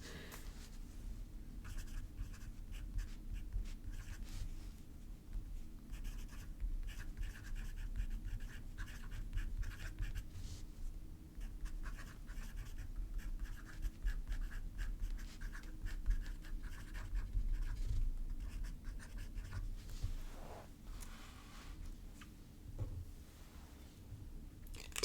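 A fountain pen with a journaler nib writes and draws on paper, making soft, continuous scratching strokes that come in irregular bursts of varying length over a long stretch, close and quiet.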